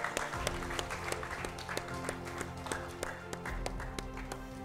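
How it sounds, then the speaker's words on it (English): Audience applause for a contestant at a state quiz competition final in a hall, moderate clapping with scattered sharper claps over a low steady hum, fairly close and continuous. "A round of applause for Samuel."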